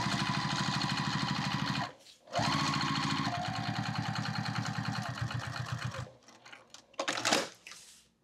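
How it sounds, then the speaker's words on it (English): A sewing machine runs steadily while topstitching a side-to-side exterior zipper pocket, a fast, even needle chatter heard up close, pausing briefly, then resuming before a few handling rustles and clicks. "push that part up, finger press, and then we top stitch."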